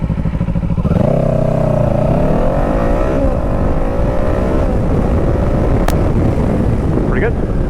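A 2024 Kawasaki Eliminator 450 motorcycle launching from a stop, the engine note rising sharply through a gear change and then holding a loud steady drone under wind noise.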